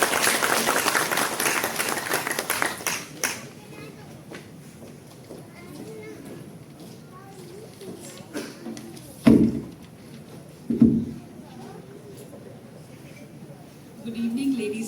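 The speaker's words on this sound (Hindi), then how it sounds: "तालियों से स्वागत करें मैडम का" A crowd applauds for the first few seconds, a burst of clapping that fades out, followed by quieter room noise and a few bumps.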